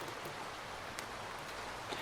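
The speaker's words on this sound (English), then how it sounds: "This dang rain, I can't see anything" Heavy downpour in a video game, a soft, steady hiss of rain with occasional faint drop taps, heard quietly and without voices.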